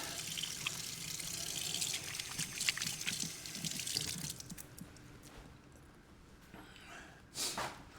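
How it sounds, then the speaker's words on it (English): Running tap water splashing over hands being washed in a kitchen, a steady close hiss of flowing water that fades out partway, followed by a few drips and a brief final splash. "Wash my hands."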